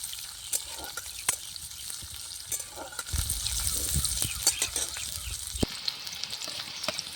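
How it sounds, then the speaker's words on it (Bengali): Chopped onion frying in hot oil and stirred, a soft continuous sizzle broken by clicks and scrapes of the spoon against the pan, swelling briefly as the pieces are turned. "এবার আমার তেলটা গরম হয়ে গেছে এবার আমি এর মধ্যে পেঁয়াজ কুচি দিয়ে দেব পেঁয়াজ কুচি দিয়ে একটু নাড়াচাড়া করবো"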